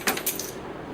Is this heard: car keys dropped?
yes